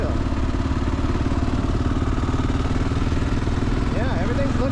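A Kawasaki KLR650 motorcycle engine runs steadily through its piston break-in, a continuous, loud, even thrum with a faint rising whine near the end. No talk is heard.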